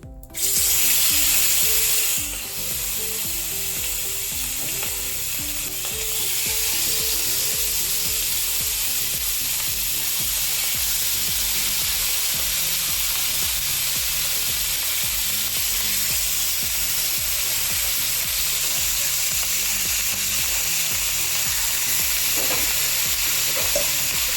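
Fish sizzles and crackles steadily in hot oil in a pan for a Kerala-style fish curry, a loud continuous frying hiss with no talking throughout.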